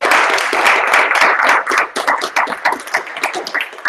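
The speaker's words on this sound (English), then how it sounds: "Let's give our speaker a round of applause." An audience at a talk on sun-like stars claps in a close, uneven round of applause, individual hand claps distinct, thinning out slightly toward the end.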